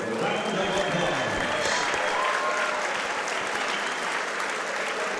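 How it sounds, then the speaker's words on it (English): Crowd at a six-round All Star Boxing fight applauds both boxers, dense sustained clapping filling the hall steadily, with murmured voices mixed underneath. "let's give both fighters a big round of applause"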